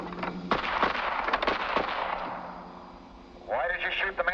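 Gunshots ring out in a 1940s crime film shooting drill, several sharp reports in quick succession early on, followed by quieter background and a brief burst of speech near the end.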